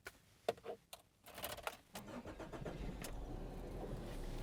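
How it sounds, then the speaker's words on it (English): A 1995 Nissan Serena C23 van starting up, with a few clicks and a short cranking burst before the engine catches and settles into a steady idle, heard close with no talking. "let's get driving in the 1995 Nissan Serena"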